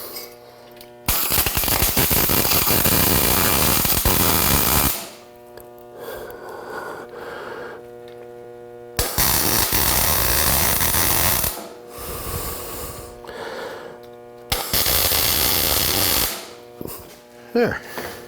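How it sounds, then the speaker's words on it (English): Three loud bursts of tack welding on a tube of a 16-foot car hauler trailer, each crackling buzz lasting a few seconds and separated by quieter gaps with handling noises. "Now I'm just going to get me a tack weld on here just to hold this tube in here good."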